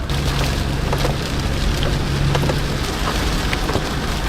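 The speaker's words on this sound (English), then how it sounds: "going into a torrential downpour" Torrential rain pours steadily onto a vehicle while driving through a downpour on entering a new country, a dense continuous roar of drops with a low engine hum beneath, close and loud throughout with no talk.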